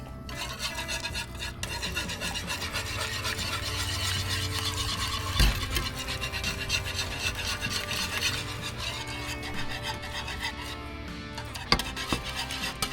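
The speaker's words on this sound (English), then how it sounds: "We'll start adding 1 cup of the cream." Cream goes into a simmering walleye chowder while a utensil stirs and scrapes the pot in steady rubbing strokes, with a soft bubbling underneath and an occasional clink against the pot.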